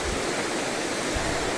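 Water from an overflowing village stream pours down in a dense, unbroken rushing roar, close and steady for a brief moment.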